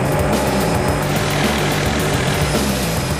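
A helicopter hovers beside a high-voltage power line during line repair work, giving a loud, steady, close rotor and engine roar that fills the whole stretch without a break.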